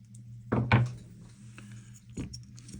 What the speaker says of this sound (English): next we are going to cut the contacts that are not needed anymore